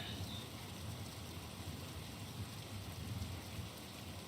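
Storm rain in the video game Pentiment, a soft, steady patter of raindrops with a faint low rumble underneath, continuous and quiet with no voices.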